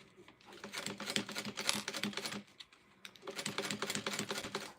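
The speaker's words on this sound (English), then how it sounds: "It sounds like my bobbin's getting ready to give up." A home sewing machine with its bobbin nearly empty runs in two quiet bursts of fast, even ticking and whirring, separated by a brief pause.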